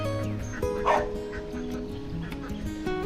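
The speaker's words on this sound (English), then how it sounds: "Along the riverbank, a few strange dogs started barking loud, but Fluffy didn't even flinch." Several dogs bark along a riverbank on a duck farm, a run of short, fairly loud barks and yips mixed with other animal noises, with a voice talking over much of it.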